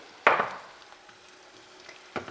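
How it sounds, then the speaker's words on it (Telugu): About ten whole garlic cloves dropped into hot oil for a potato fry, a sharp burst of sizzling that quickly fades to a soft crackle, then a second brief sizzle near the end. "జస్ట్ సాలిడ్ గార్లిక్ వేస్తున్నాండి, ఒక 10 రిబ్బల వరకు"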